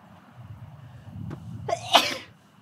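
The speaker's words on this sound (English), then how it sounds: "this is not normal for a human to sneeze every weekend" A single sharp sneeze bursts out near the end after a brief intake, close and loud against a quiet low background hum.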